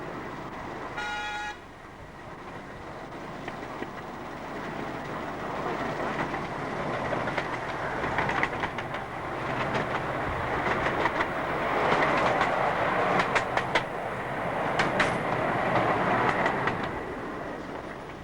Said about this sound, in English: Another round and round miniature railway built by Mardykes is at the Strand in Gillingham